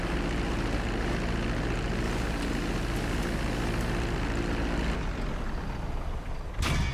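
An airplane taxiing in the video game GTA V, a steady loud engine drone that fills the clip, dipping briefly near the end before a short sharp burst, with no talking.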